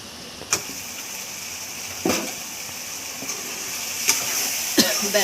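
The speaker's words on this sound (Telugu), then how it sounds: "ఇలా టమాటీ కూడా ఉడుకుతుంది కదా" Tomato and okra simmering in a pan, a soft continuous bubbling hiss punctuated by a few sharp clinks or spoon taps, close and moderately loud.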